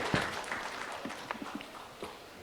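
Faint, scattered clapping from an audience welcoming a panelist at a conference on in-house counsel and dispute resolution, thin and brief rather than a full ovation.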